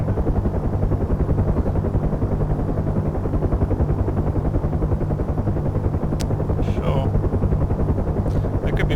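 Helicopter heard from inside the cabin during a low-level flight from Batumi to Kubeleti, a loud steady rotor thump and engine drone throughout, with brief chirps of radio or cockpit tones near the end.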